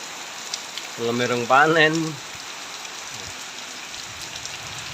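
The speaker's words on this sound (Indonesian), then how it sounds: "Hujan ini terus piye iki?" Steady rain falls during the dry season in a village, a soft continuous hiss of drops throughout, with a man's brief spoken phrase near the start.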